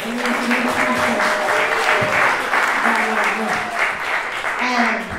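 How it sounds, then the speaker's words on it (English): Audience at an artist panel applauds, a loud, dense crowd clapping with voices speaking and calling out over it throughout. "you can give an applause for that."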